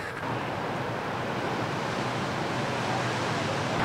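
Pacific Ocean surf washing continuously below an oceanfront bluff-top park at Pismo Beach, California, a steady broadband roar of breaking waves with some wind, loud and unbroken throughout.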